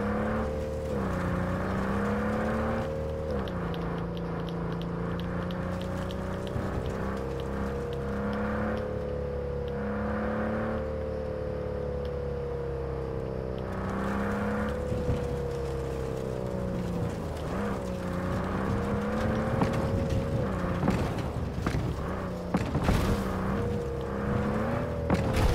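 Car engine in Cyberpunk, driven off-road: a steady, loud whirring drone with pitch rising and falling as the car accelerates and bumps over rough ground, no talk.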